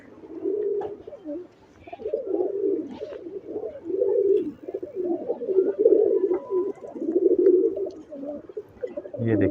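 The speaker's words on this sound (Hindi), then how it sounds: "ये देखें जी ये कबूतर है जी" Soft, throaty cooing of star pigeons, breeder pairs, repeating close by, with low rumbling calls overlapping and rustling in the background.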